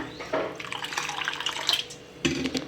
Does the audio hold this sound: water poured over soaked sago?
yes